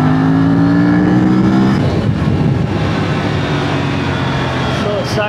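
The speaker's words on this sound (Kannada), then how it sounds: "ಸೊ ನೋಡ್ತಾ ಇರ್ಬೋದು ಥ್ರಾಟಲ್ ಓಪನ್ ಮಾಡಿದ್ರೆ" An Aprilia RS 457 sport motorcycle engine revs as the throttle opens, a loud close engine note that rises briefly and then settles into a rough rumble, with a voice talking over it.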